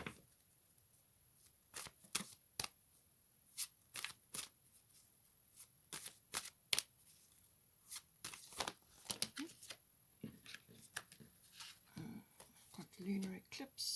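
Astrological oracle cards shuffled by hand in short crisp bursts of riffling and flicking, repeated irregularly close to the microphone in a quiet room.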